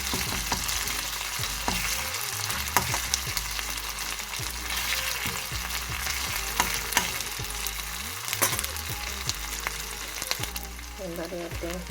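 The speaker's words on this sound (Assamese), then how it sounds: "পিঁয়াজখিনি আধা সিজা হ'ল, এবাৰ মই ইয়াতে আদা ৰচুন অকণমান দিলোঁ।" Onions sizzle and fry in a pan with ginger and garlic added, a steady close crackle of hot oil with occasional stirring scrapes throughout.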